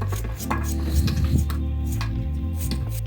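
A knife chopping food on a board while a fish dish is prepared, several quick crisp taps over a steady low background hum, with no voice.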